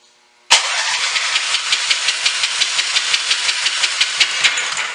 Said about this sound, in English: So this is compression test on starter side of the cylinder